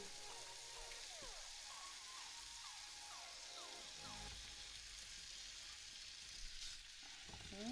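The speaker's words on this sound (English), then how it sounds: "Ooh, that nice sizzle." Bacon sizzles steadily in a frying pan during a cook-off, a constant crackling hiss with occasional faint clinks and scrapes.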